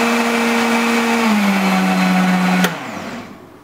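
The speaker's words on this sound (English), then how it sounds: "Basically, this blender just owned that ice, as well as everything else in there." A Spectablend blender runs loud and steady, crushing ice with banana and almond milk for a smoothie, its motor pitch dropping slightly before it cuts off abruptly and the noise fades away.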